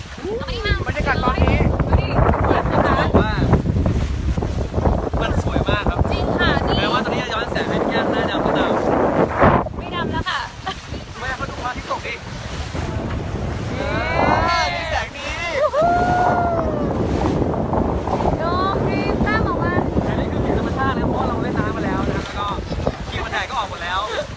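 Steady wind noise and water rush from a moving boat off Phuket at sunset, with voices talking now and then over the constant roar.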